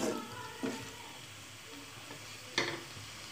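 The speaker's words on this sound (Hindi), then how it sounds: "चिकन को हम अच्छे तरीके से फ्राई करेंगे अच्छे तरीके के साथ।" Chicken frying in a pan for a chicken tikka pizza topping, a faint, steady sizzle broken by two or three brief scraping stirs, close and without talk.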